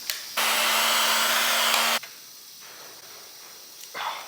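A heat gun blows hot air onto a rigid pipe on an Aston Martin car, a loud steady hiss for about a second and a half that then switches off abruptly, followed by a quiet room and faint handling noises.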